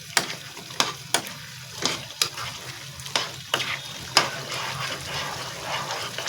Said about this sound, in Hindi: अब इसको भूनते जाएंगे कि मसाले अच्छी तरह मिक्स हो जाएं